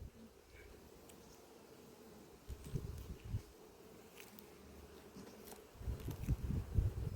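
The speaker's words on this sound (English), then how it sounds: "Nice calm bees though." Honey bees at an apiary hive hum in a faint, low continuous drone with soft rustling bumps and knocks from handling the hive close by, no talk during the stretch.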